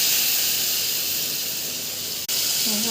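Loud steady hiss and sizzle of potatoes frying in hot oil tempered with cumin and bay leaves, continuous, with a brief clatter near the end.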